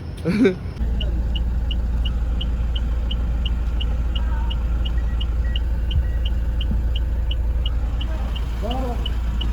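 Close, constant low engine drone inside a pickup truck being towed, with a regular ticking chirp repeating steadily and people talking over it.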